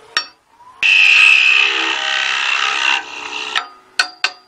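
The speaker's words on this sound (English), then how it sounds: "I'm going to use my tenoning tool here and put a 7/8 inch tenon on here" A lathe tenoning tool cuts a 7/8 inch tenon on a small twig vase, a loud, steady, harsh shrieking whine lasting about two seconds, followed by a few sharp clicks.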